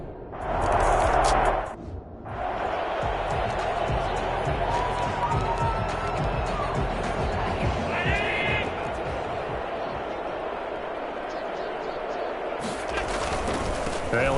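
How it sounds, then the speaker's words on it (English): Crowd in an American football video game reacting to a penalty call with a loud, sustained roar of disapproval, steady and dense throughout, with play-by-play commentary talking over it. "Well, the crowd doesn't like that."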